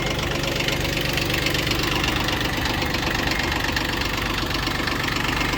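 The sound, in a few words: Yanmar F15 mini tractor engine running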